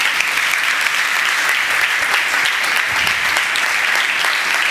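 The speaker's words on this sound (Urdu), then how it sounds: "عظیم اج دے نال دے دوجے کونیاں لئی بھی تالی وجا دو" A church congregation claps together, dense steady applause at an even level throughout with no voices standing out.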